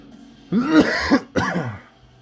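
Two harsh, throaty coughs in quick succession, close and fairly loud, with a short gap between them and quiet before and after.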